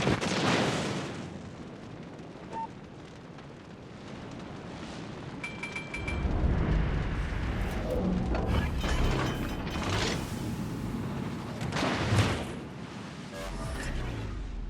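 Naval gunfire in World of Warships Legends, with heavy booming shots spread across the clip among mechanical turret and ratchet-like clatter, loud and close.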